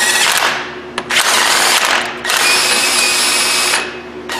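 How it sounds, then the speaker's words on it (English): Power-driven thread chaser running over steel wheel studs on a Subaru to clear aluminum from the threads, a loud steady whirring grind in three long bursts with short pauses between. "We'll run a thread chaser over, because they do have some aluminum plugging up the threads."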